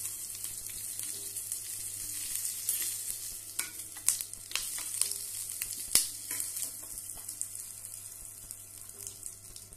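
Mustard seeds, cumin and curry leaves sizzle and crackle in hot oil as a tempering for green gram and raw mango chutney, with soft stirring and scattered sharp pops over a steady hiss, no voices.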